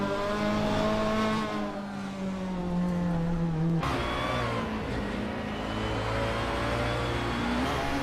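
A 2018 BMW 125 Iron Sport leaves the line at the race start at Lakeside Park, engine revving steadily and shifting up once midway, loud and close throughout.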